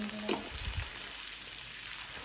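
Onion with ginger, garlic, turmeric, cumin, coriander and a homemade spice mix sautéing in a pan for a stove-cooked dish, a soft steady sizzle with light stirring scrapes near the start and a clatter at the end.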